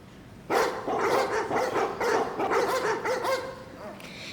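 Several dogs barking in quick bursts, played as a sound effect during a school musical production of Honk!, loud and sustained, with faint voices mixed underneath.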